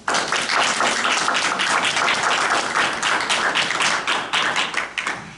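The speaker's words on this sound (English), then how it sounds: "I'd love to offer them a round of applause." Attendees at a Belmar borough council meeting applaud emergency responders after a nor'easter, a room of clapping that swells quickly, holds strong, then thins into scattered final claps.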